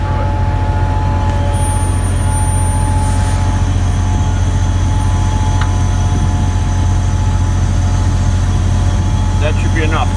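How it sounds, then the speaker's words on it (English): Compressed air from a trailer rushes through a hose in a steady, loud hiss, buried under a heavy low rumble and hum that last the whole stretch, with faint high clicks near the end. "That's just air going through it."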